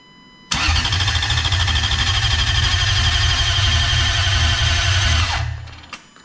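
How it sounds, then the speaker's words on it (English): Car engine cranking over on the starter during a base timing check, a loud steady rapid chug lasting about five seconds before winding down, close by with no talk. "So go ahead and crank it."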